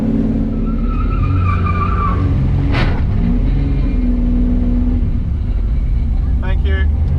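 A drag racing car on bias ply slicks accelerates hard down the track, its loud engine roaring steadily with a short sharp burst midway and tire noise near the end.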